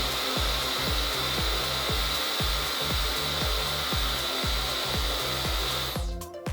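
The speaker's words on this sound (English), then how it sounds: "I'm gonna click in my hair dryer" An INGLAM 4-in-1 styler hair dryer blows steadily with a loud whirring roar and a rapid regular pulsing beneath it, then cuts off abruptly near the end.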